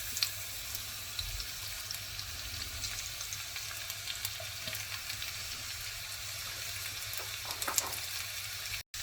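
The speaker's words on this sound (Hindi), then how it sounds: "2 टेबलस्पून जितना ऑयल डाल देते हैं। ये लहसुन डाल देते हैं कटा हुआ।" Chopped garlic fries in about two tablespoons of oil for keema samosas: a steady close sizzle with fine scattered crackles and pops running throughout, no talking.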